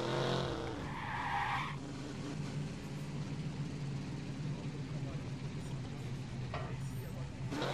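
In the video game Watch Dogs, a car drives past with tires squealing and skidding, a loud sustained screech that settles into engine and road noise, with game voices mixed in.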